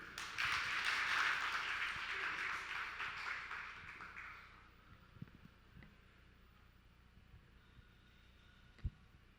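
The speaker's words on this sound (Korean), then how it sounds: "큰 박수로 환영해 주세요." Applause from an audience at a local creators' festival panel fills the opening seconds as a dense, loud wash of clapping, then fades out by about the midpoint, leaving a quiet room with a few faint knocks.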